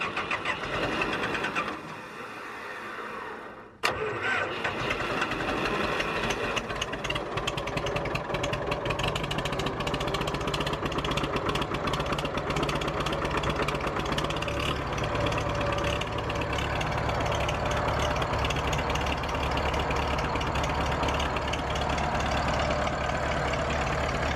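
A car engine catches after a cold start with a sudden burst, then settles into a steady, rough mid-pitched idle that drones on close by and unchanging for about twenty seconds, with no voices.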